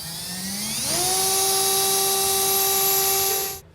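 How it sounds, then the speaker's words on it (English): A power drill whines loudly while drilling through metal for a truck-bed rail kit on a 2018 Ram 2500, its pitch climbing steeply as it spins up, then holding a steady high screech before cutting off abruptly. "So we're going to drill through this"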